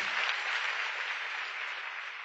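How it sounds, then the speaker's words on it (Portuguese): A church congregation applauds during a worship service, a brief, even wash of clapping that sounds slightly muffled and distant. "Vamos aplaudir a Jesus?"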